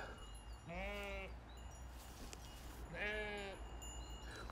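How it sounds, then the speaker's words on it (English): A flock of sheep bleating, two distinct drawn-out wavering bleats a couple of seconds apart, fairly close over low steady background rumble. "I'm searching out this flock of sheep."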